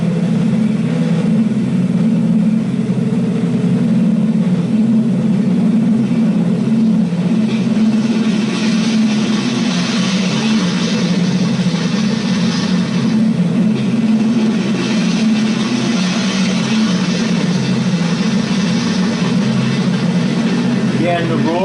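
Bomber plane engines roaring in a steady, loud, continuous drone with a heavy low rumble throughout, dubbed onto wartime propaganda footage.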